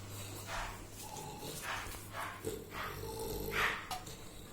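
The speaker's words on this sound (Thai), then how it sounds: "เวลาเห่าอย่างนี้นะ ผมจะเทสให้ดูนะ" An American Bully barks in a short series of loud, separate woofs, spaced unevenly, with a faint background hum.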